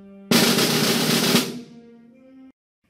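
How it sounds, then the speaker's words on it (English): A school band player rolls a snare drum with sticks in one dense burst lasting just over a second. The rattle then decays, and a faint ringing tone lingers underneath. "This is a snare drum. You play it with sticks."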